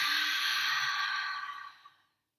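A long, loud breathy exhale imitating a dragon's fiery breath, a single steady rush of air lasting about two seconds before fading out, alone with no talk.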